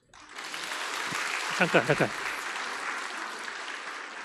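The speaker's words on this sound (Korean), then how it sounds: "요셉 역할을 한 형제에게 박수." Applause from a church audience at a Sunday afternoon youth committee dedication service, honoring the young man who played Joseph; steady clapping fills the whole stretch while a voice briefly speaks over it near the middle.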